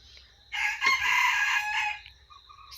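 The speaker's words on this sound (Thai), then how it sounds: "เสียงไก่ขันอยู่แซว" A single rooster crows loudly and close by, one long drawn-out call lasting about a second and a half, with quiet surroundings.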